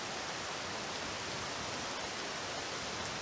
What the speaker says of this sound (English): I really do love the rain a lot,